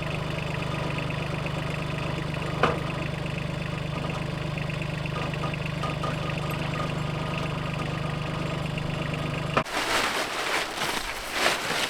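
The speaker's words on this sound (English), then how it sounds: "So Steve just getting used to the controls on the tractor." A tractor engine idles with a low, even drone for about ten seconds, then the tone shifts abruptly and becomes rougher and more uneven near the end.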